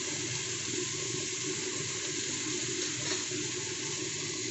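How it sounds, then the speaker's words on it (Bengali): Water poured from a plate into chicken curry (chicken tok jhal) with fried potatoes, a steady continuous splashing rush that stays even and close throughout, with no voices. "পরে এই থালাটা দিয়ে একটু জল দিয়ে দেবো।"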